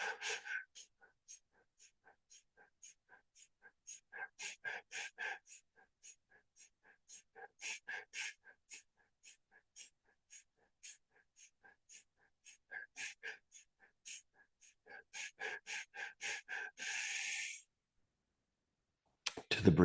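Rapid, forceful rhythmic breaths in a fire-breathing exercise, sharp puffs repeating steadily for about seventeen seconds, growing louder and faster near the end before stopping, close and alone with no talk.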